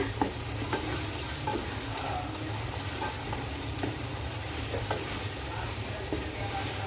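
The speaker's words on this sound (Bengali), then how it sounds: "মশলাটা আমি ভালো করে কষিয়ে নিব" Spices and onion frying for a beef curry, a constant close sizzle with faint scraping clicks from stirring in the pan, steady and uninterrupted.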